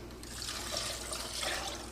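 Water poured from a container into a saucepan holding carrots, a steady splashing trickle close by that runs for a couple of seconds without a break.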